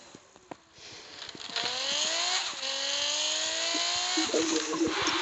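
A Paul Walker-style mk4 Supra street race car in a video game revs and climbs through gears, its engine whine rising in pitch, dropping at a shift, then rising again before a rough, sputtering patch near the end.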